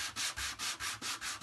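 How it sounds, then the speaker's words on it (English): A sanding block lightly scuffs laser-cut wood to remove smoky residue, making about seven close, rhythmic rasping strokes in an even back-and-forth pattern, with no talking. "you're going to take your sanding block and just give it a light sanding"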